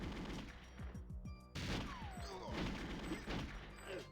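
Gunfire in the Nintendo 64 game GoldenEye 007, a quick burst of several sharp shots followed by more scattered bangs and impacts over game background sound.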